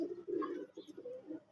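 Fancy pigeons coo in a short, close, soft burst of low throaty notes, a few pulses in quick succession.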